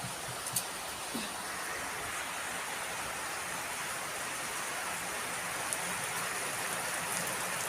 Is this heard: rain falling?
yes